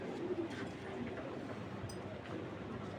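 Pigeons in a racing pigeon loft coo quietly in the background, faint low cooing over a steady murmur of room noise, with no clear talk.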